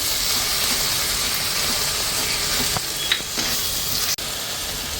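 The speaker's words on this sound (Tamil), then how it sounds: "நல்லா வதக்கி நல்லா தக்காளியும் மசாலா எல்லாம் சேர்ந்து வதங்கட்டும்" Tomatoes and masala sauté in hot oil with a dense, continuous sizzle and hiss, close and fairly loud, broken by a couple of brief scrapes or stirs near the end.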